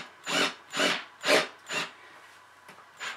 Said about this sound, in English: Need to drill a smaller lead hole.